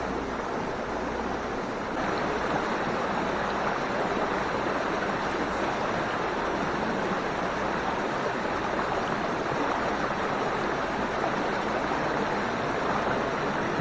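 Water of a mountain stream in the Blue Ridge Mountains of North Carolina rushing steadily as a dense, continuous broadband wash, fairly close and unchanging, with no voices.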